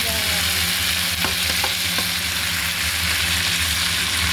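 Onion, garlic and ginger sauté loudly for pinakbet as tomatoes are tipped into the pan, a thick, constant sizzle broken by a few soft knocks and clatters.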